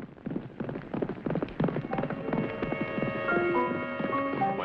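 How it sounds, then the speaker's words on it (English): Horse hooves pound in a fast approach in a 1950s TV western, a quick run of hoofbeats that grows louder before fading under swelling orchestral music. "Somebody's come on the horse fast."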